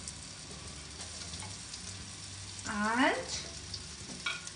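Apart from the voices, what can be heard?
onion and capsicum sautéing on high flame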